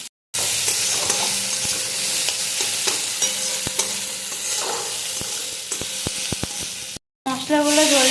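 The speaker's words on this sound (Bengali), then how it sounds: "এবার পেঁয়াজ আর টমেটোগুলো ভেজে নেব" Onions and tomatoes fry in a pan for an egg and potato curry, giving a steady close sizzle broken by stirring scrapes and clicks, with a brief cut to silence near the end.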